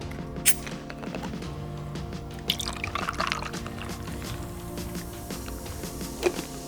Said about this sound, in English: And finally, I'm gonna top it out with club soda.